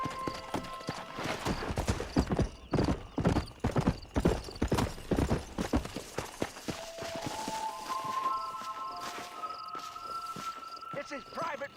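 A horse in the Red Dead Redemption video game, steady rhythmic hoofbeats close by with a whinny and soft voices mixed in, then the hooves ease off under sustained tones and a faint insect chirp.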